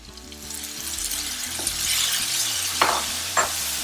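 Tomatoes tossed into hot oil seasoned with asafoetida for South Indian tomato rice give a steady sizzle and frying hiss, with a few stirring scrapes and clacks near the end.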